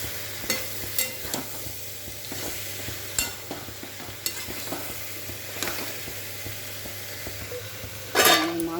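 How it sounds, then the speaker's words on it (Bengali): Mushrooms frying in a pan, a soft steady sizzle broken by scattered clicks and scrapes of stirring utensils, with a louder burst of sizzling near the end. "মাশরুমটা দেখি কতটা হলো, মাশরুমটা ভাজতে দিলে"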